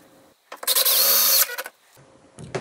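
A power drill drives screws into a uPVC window espagnolette lock, giving one loud sustained whirring burst of nearly a second, followed by a shorter trailing buzz and a final brief spin, all close up.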